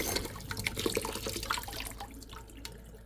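Water runs from a kitchen tap into a sink during dishwashing before making coffee, a steady close splashing rush that eases and thins toward the end as the flow is shut off.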